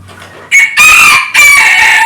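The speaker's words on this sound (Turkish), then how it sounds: "şu karşıda görmüş olduğumuz siyah horoz" A black rooster crows loudly and close by, a harsh drawn-out call in two bursts with a brief break between, heard alone.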